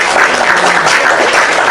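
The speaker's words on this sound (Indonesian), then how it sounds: "Tepuk tangan dulu kalau gitu." An audience at a debate-style talk session claps together, a dense, steady wash of applause filling the short moment at a fairly loud level.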